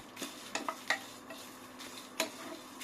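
Red chillies and curry leaves dry-roast in a pan for sambar powder, giving a soft background crackle with a few sharp scraping clicks as they are stirred, close up and without voices.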